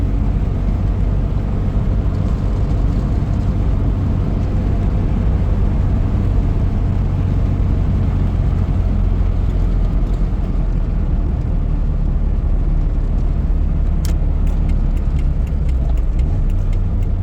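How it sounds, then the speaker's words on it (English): Steady low engine drone and road rumble from a 1983 Toyota Tercel wagon on a test drive after head gasket replacement, heard continuously from inside the moving car with no talking. "we are in the 83 Tercel, taking it around the block for a quick test drive"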